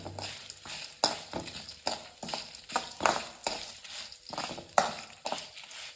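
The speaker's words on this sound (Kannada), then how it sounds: "ಈಗ ಅದನ್ನು ಸಾಟೆ ಮಾಡ್ಕೊಳ್ಳೋಣ, ಅಂದರೆ ಸ್ವಲ್ಪ ಬಾಡಿಸೋಣ ಅದನ್ನು." Chopped green and dried chillies being sautéed in a pan, a soft sizzle under repeated scraping stirs of a spoon, close and quiet, with no talking.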